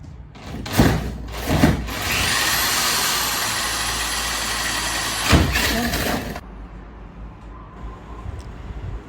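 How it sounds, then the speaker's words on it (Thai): A loud, steady mechanical whine of a power drill boring a hole in a ceiling board runs for several seconds, bracketed by knocks and bumps, then cuts off to quiet room noise. "ใช้สว่านเจาะฝ้าขนาด 13 เซนติเมตรนะคะ"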